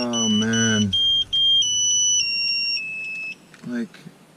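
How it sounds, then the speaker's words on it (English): Volvo 740 car alarm sounding in a garage during a boost controller install, a steady electronic two-tone beep held for several seconds and loud over brief speech at the start and end. "Oh my god, the alarm."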